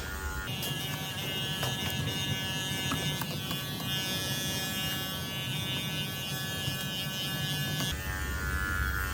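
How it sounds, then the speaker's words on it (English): Electric dog clippers run on a dog's belly during grooming, a steady close-up buzz with a faint hum that holds for about seven seconds, stopping briefly at the start and again near the end. "once I clipper the belly, it'll be a little bit more clear"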